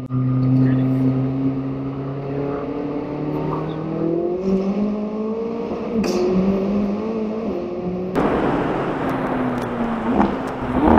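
A McLaren 675LT engine drones loudly from inside the cabin, its pitch shifting as it slows, then exhaust pops and crackles burst out sharply near the end, with a person talking over it.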